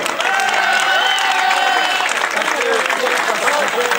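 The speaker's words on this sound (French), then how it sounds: "On va applaudir également son coéquipier, Damien Poisson." Crowd applause at a cycling race ceremony at the Grand Prix de Quessoy, a dense, steady wash of clapping mixed with cheering and a loudspeaker voice talking over it throughout.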